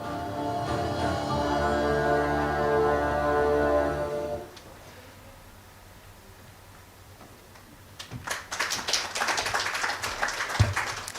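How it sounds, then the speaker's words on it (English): Audience applause breaks out at an inauguration event for a social impact initiative, a dense crackle of many hands rising after a sustained musical tone fades and a quiet pause. "Big round of applause for that."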